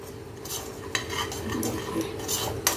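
Stuffed green chillies being stirred in a pan with the flame turned off, so a metal spoon scrapes and taps against the pan over only a faint, fading sizzle.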